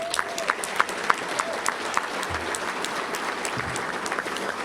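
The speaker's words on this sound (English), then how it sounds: "Let's give you a round of applause." Sustained applause from a luncheon crowd at the Little Rock Touchdown Club honoring former player Cedric Houston, a steady dense patter of many hands with a few sharper claps standing out, continuing evenly throughout.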